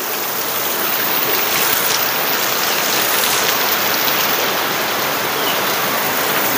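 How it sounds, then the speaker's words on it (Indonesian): Heavy rain pours down in a dense, continuous hiss of water striking surfaces. It stays loud and even throughout, with no voices. "Ini lagi hujan deras teman-teman."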